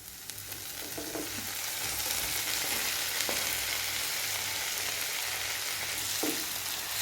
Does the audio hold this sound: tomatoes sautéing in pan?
yes